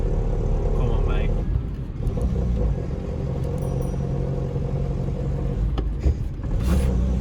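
An Austin Maestro's engine rumbles and strains at low revs as the car struggles to climb, a steady labouring drone heard from inside the cabin. Someone talks over it.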